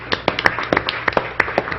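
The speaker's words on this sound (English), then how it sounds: "We should give her another round of applause." Scattered, sparse hand claps from a small audience at a general session, a dozen or so distinct sharp claps spread unevenly across the moment rather than a full ovation.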